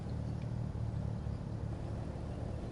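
Porsche engine in the racing game The Crew 2, a steady low rumbling drone that holds at a constant level throughout, with no voices over it.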